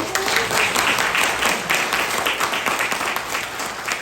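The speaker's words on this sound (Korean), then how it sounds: "박수 한번 보내주시오" Sustained applause from an audience at a Lions Club inauguration ceremony, dense steady clapping filling the whole stretch at fairly loud level.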